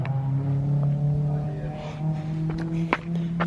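A car engine with a Honda-like tone idles and revs steadily nearby, with a sustained low hum and some light movement noises.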